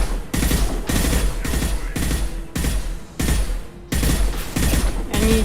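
Bursts of automatic weapon fire from the video game Mass Effect 2 rattle loudly in about seven rapid volleys, each lasting roughly half a second with brief gaps, close and punchy, no voices.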